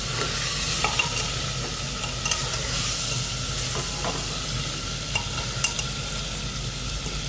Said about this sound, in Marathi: चिकन तेलावर 2 मिनटं चांगले परतून घेऊया.